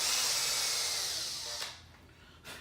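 A tap cuts threads into a screw hole on a mounting plate for a Scotty downrigger on a 2019 Hobie Outback kayak, giving a sustained close grinding whir that fades, then a brief second burst near the end.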